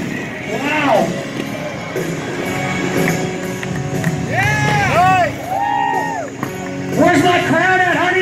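A crowd cheers and whoops at a freestyle motocross show in Huntington Beach, a steady roar of voices with shouts rising and falling, under an announcer's amplified voice.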